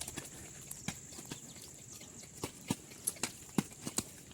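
Hooves clip-clop as a horse is ridden home, quiet at first and then sharper and more regular toward the end, heard alone without talk.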